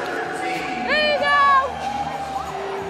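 A stadium crowd at a women's football game in Omaha, with a swelling cheer and whoops over a steady roar and a broadcast voice talking on top.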